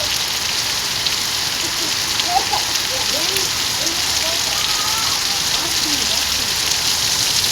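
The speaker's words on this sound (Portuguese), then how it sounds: "Chuvinha maravilhosa vinha pra nós aí, ó." Steady rain patters against a window during a rainy January day in Espírito Santo, Brazil, a dense continuous hiss with faint scattered drops and no thunder.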